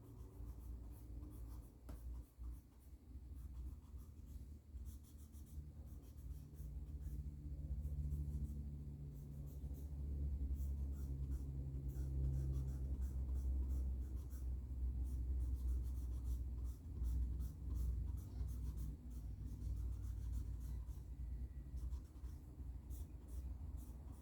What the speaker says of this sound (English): Let's go and smudge a little more.